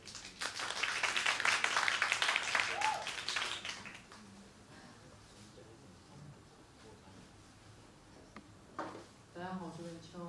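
Applause from a seated audience greeting the singer at a live music event, dense clapping for about four seconds before fading into quiet room noise and a voice.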